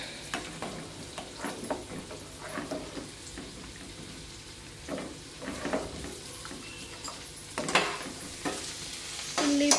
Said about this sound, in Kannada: ಇಲ್ಲಿ ಪಲ್ಯಕ್ಕೆ ಇದೊಂಚೂರು ಈರುಳ್ಳಿ ಫ್ರೈ ಆಗಬೇಕು